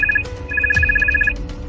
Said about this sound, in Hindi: सीमा का फोन फिर बजने लगता है।